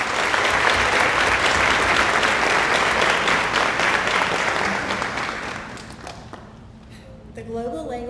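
Loud, sustained applause from a large audience fills a high school senior award ceremony hall, then fades out as a speaker begins talking.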